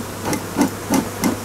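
A beekeeper's smoker puffs at a hive while a swarm is moved from a trap, four short breathy bellows puffs in an even rhythm, close and moderately loud.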